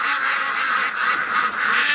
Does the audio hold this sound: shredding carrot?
no